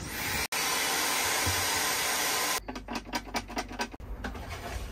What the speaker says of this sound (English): Very powerful device, my Hoover.